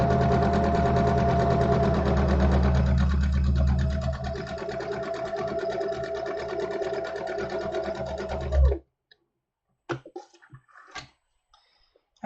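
A sewing machine runs steadily and loudly while stitching a summer tunic, a continuous mechanical whir for several seconds before stopping, followed by a few quiet clicks and handling sounds.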